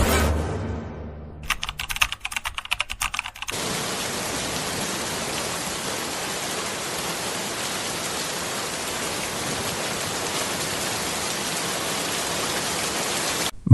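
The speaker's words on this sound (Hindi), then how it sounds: "भाई, बाहर बहुत तेज बारिश हो रही है।" Heavy rain pours down steadily and loudly, a dense, even hiss that fills the scene after a brief stretch of tapping, with no voices over it.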